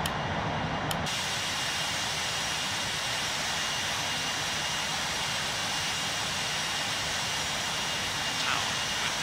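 Steady broadband roar of a British Airways Airbus A380's jet engines at full takeoff power, heard from inside the cabin as a continuous loud rush and hiss with no voices.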